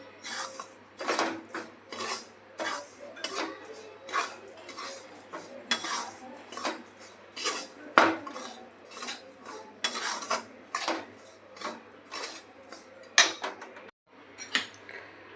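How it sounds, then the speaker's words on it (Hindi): A spoon scraping and clinking against a metal pan as spices and amchur powder are stirred, in a steady series of close, sharp strokes with brief pauses and no voices. "थोड़ा अमचूर पाउडर आधा चम्मच, इनको हम चला देंगे सारे मसालों को।"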